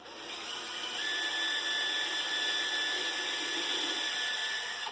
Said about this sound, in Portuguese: Olha lá, você faz o furo.